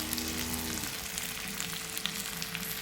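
Village fish frying in oil in a pan for a spicy fish curry, a steady soft sizzle with faint crackles and a low hum, no talking.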